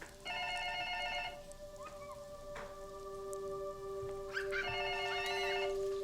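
Telephone bell ringing in a movie scene, sounding in two distinct bursts of rings separated by a pause, fairly clear over a steady low hum and background noise.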